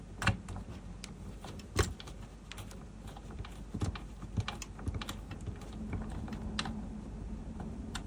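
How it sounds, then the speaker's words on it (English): A small screwdriver tightens screws on a RoboCop model kit, giving a string of light, irregular clicks and taps close by, with no one talking. "tighten it up with the other screwdriver. So I'm going to tighten the top one, tighten the bottom one."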